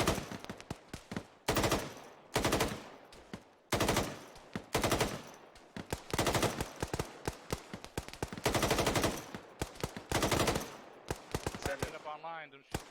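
In the tactical shooter Squad, a player lays down cover fire with loud, close automatic gunfire in rapid bursts separated by short pauses, and each burst cracks sharply.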